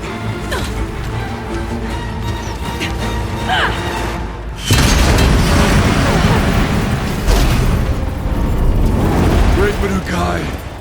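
A bomb explodes in the video game Horizon Zero Dawn, a sudden loud blast midway that gives way to a long crackling, rumbling roar, heard after a stretch of game sound and music.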